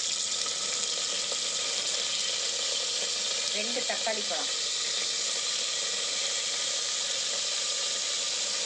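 Onions, bay leaf and whole spices sizzle in hot oil for a paneer biryani, a dense steady hiss filling the clip, briefly joined by a few stirring clinks while someone speaks over it.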